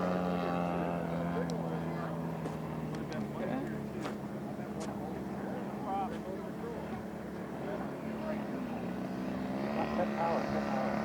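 RC Focke-Wulf FW-190 A-5 model plane with a Zenoah GT80 twin-cylinder engine coming in to land, its throttled-down engine droning faintly at a distance while people talk nearby.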